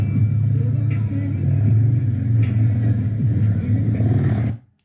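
A motor vehicle engine drones loud and close at a race track, a steady low rumble with slight rises in pitch, then cutting off abruptly at the end.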